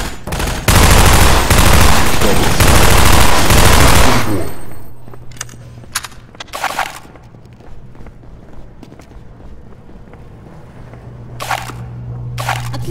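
A long, loud roaring burst of rapid gunfire, followed by scattered footsteps and a few short heavy blasts.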